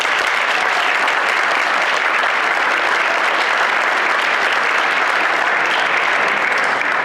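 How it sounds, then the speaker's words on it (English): Sustained applause from an awards ceremony audience honouring a group of talented women student winners, a dense, steady wash of clapping from many hands lasting throughout without speech. "If you all could join me in just one more round of applause for this amazing group of talented women."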